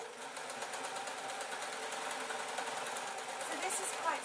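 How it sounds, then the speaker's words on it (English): A sewing machine runs steadily, sewing a running stitch on scarf fabric with french seams, a fast continuous close whirring and ticking, with a voice talking over it. "I'm just letting the machine do the sewing"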